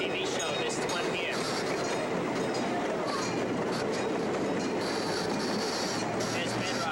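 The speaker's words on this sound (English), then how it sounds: "this is the Bedrock train" A Bedrock-themed toy train runs along its track with a continuous rolling rumble and faint rhythmic clatter, steady and close throughout, with light squeaks and a little background chatter.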